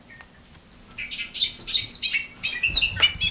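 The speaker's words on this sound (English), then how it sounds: "Can I play the bird song?" Recorded bird song plays from a phone during a town select board meeting. It is a quick run of bright chirps, whistles and squawky tweets, moderately loud and close, with no voices over it.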